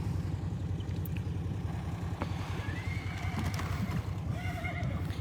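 Horses at a refeeding pen with an engine running steadily in the background, while high neighs and whinnies rise faintly in the last seconds.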